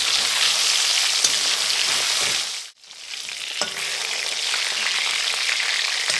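Fish frying in hot mustard oil with turmeric powder on medium flame makes a loud, steady sizzle. It dips briefly partway through, then resumes with occasional crackles, heard alone and up close.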